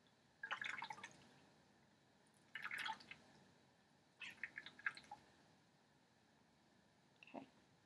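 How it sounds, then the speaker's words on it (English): Water dripping and splashing from a washcloth as it is twisted and wrung out, coming in three short wet bursts with quiet gaps between and a small final drip, faint and close. "You're going to hold it with one of your hands and then twist it to wring it all the water out."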